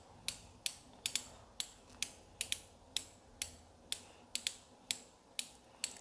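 Adjuster knob on a DBS 719 shock absorber being turned toward the hard setting gives a series of about fifteen sharp, close ratcheting clicks at a steady pace, each with a short decay, heard alone with no talk.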